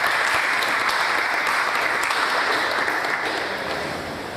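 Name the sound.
applause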